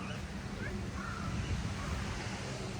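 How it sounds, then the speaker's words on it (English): Strong wind blowing at a beachfront condo with a pool, a steady broadband roar with gusty wind buffeting close to the microphone, continuous and fairly loud throughout. "Wind is really blowing today."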